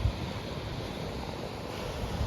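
Ocean surf at Old Orchard Beach, Maine, in winter, a steady wash of breaking waves blended with wind rushing across the microphone, continuous and unbroken with no talk.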